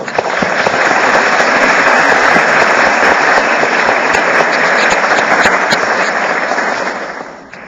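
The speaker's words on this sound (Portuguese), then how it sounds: "Umas palmas" Audience applause at a lecture in Brazil, loud dense clapping that swells quickly and holds for several seconds before fading out.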